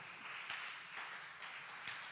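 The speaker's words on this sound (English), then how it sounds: "Would you give the Lord a boisterous hand clap?" A church congregation claps together, a faint, steady wash of many hands that rises and falls gently without a break.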